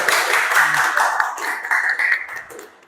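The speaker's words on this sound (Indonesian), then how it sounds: "kasih aplaus yang meriah dulu" Classroom applause from a group of students, a dense, steady clatter of clapping hands lasting about three seconds at close range, easing slightly near the end.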